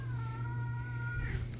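A single drawn-out cat meow, close and clear, rising into a strained wail at the end.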